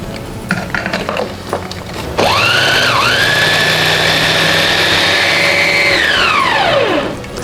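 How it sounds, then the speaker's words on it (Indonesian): An electric chopper whirs loudly while grinding lemongrass, galangal, ginger and boiled dried chilies, starting abruptly after some faint clatter, rising and dipping in pitch as it bites the spices, then holding a steady high whine before winding down. "aku haluskan menggunakan chopper aja"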